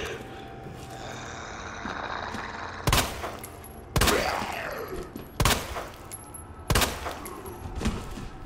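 Four loud, sharp gunshots ring out at roughly one-second intervals in Resident Evil 2 Remake, each a hard broadband crack with a short tail, over a steady game ambience.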